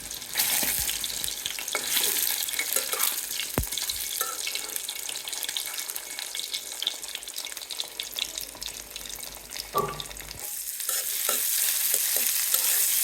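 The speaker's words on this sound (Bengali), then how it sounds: "ডিম আমি ভেজে নিচ্ছি" Eggs frying in a pan, heard as a continuous close sizzle mixed with scraping and stirring and some running-water noise, with a few sharp utensil clicks and no talking.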